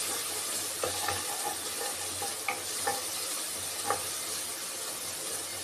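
Coriander stems sizzling in hot oil in a pan, a steady frying hiss with soft stirring clicks and scrapes spaced throughout, close and fairly quiet.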